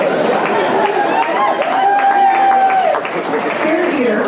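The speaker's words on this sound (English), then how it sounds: "You can clap, thank you." A comedy-show audience applauds at a comedian's stand-up set, a dense patter of clapping and crowd noise running throughout, mixed with talking and a few voices calling out.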